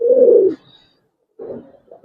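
Giribaz racer pigeons coo in a loft, a low throaty burst followed by a pause and then a second softer coo, close by with no talk.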